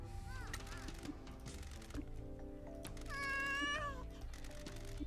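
A cartoon cat meows in the video game Promise Mascot Agency, one rising-and-falling meow midway over looping game music and ambient tones, fairly clear above the mix.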